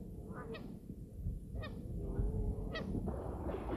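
Migratory geese honk three times at steady intervals of just over a second, clear nasal calls standing out above a constant low rumble of wind and outdoor background noise.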